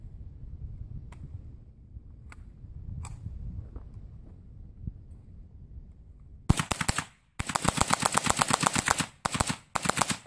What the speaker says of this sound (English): for the Ruger 1022 assault rifle, we're going to go full semi-automatic on this target